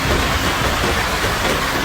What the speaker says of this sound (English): 2 seconds ago, there was no rain, then it started pouring, and this is it.